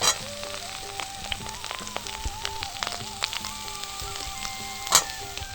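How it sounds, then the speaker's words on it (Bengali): Pointed gourd and soaked, squeezed soybeans fry in a pan with a soft, steady sizzle. Faint background music plays alongside, and a sharper clatter or pop comes near the end. "পটলটা দেওয়ার পরে একটু ভেজে নেব।"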